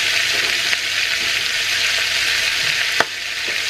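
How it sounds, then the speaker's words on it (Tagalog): Pancit noodles stir-fried in a hot wok with celery leaves added, a loud, dense, unbroken sizzle heard up close, marked by a few sharp utensil knocks, no one talking. "At yung last na ihuhulog ko ay yung celery leaves para mas mabango siya"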